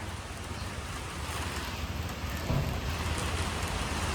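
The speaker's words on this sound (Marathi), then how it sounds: "पाऊस इलो." Steady rain pours down in Kankavli in the Konkan region, a dense, even hiss of drops that holds for the whole stretch and grows slightly heavier partway through, with no voices.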